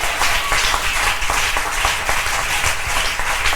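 Loud, sustained clapping from a church congregation acclaiming Jesus Christ, many hands beating in a fast, even rhythm close and full, with faint voices mixed in.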